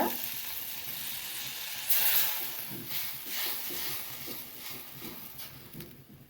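Homemade ghee ingredients sizzle steadily in a hot kadai over a low flame, a soft continuous frying hiss with faint stirring scrapes, close and moderately loud with no talking.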